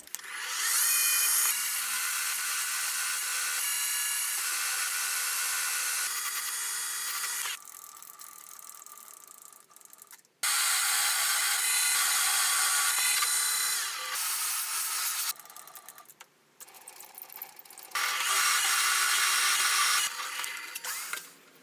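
A drill boring holes into a metal workpiece for a lathe collet chuck, loud sustained whirring in long stretches broken by brief pauses between holes.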